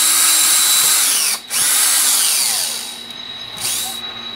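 Power drill boring holes in a helix antenna gusset, a high whining buzz running close and loud in two bursts with short pauses between them as the bit slows and restarts.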